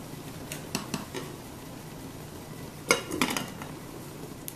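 A lid is set over a pot of eggs at a full boil on the stove, giving a couple of faint metallic clinks and clatters over a quiet kitchen background.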